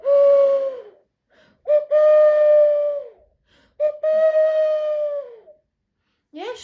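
An owl hoots in a fairy tale: three long, loud, close hoo calls, each one held and then falling off, separated by short silences. A human voice appears to imitate the hoots.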